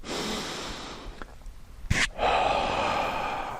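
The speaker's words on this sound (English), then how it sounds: "Deep breath." A deep, slow breath is drawn in and let out during a qigong breathwork exercise, heard close and soft as a long airy inhale, a sharp sniff-like burst, then a smooth exhale.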